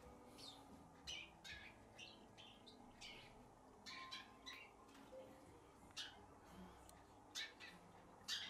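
A caged Eurasian tree sparrow chirps and scolds with short, sharp bursts repeated every second or so over a soft background hiss. The calls are faint and come from a little distance.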